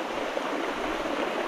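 Water rushes steadily along a lively stream, a continuous close hiss with no breaks and no voices.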